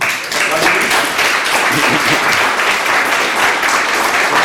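Loud, dense applause from a conference audience, steady and continuous throughout with no pauses.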